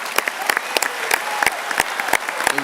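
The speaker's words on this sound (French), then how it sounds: "et on peut t'applaudir fortement" Applause at a farewell gathering for outgoing administrators, with sharp separate claps standing out over a thinner bed of clapping, fairly close and loud, uneven in rhythm.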